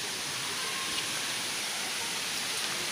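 Continuous broadband rush of water from the Moti Jharna waterfall in Sahebganj, a steady even roar heard from a short distance with no voices.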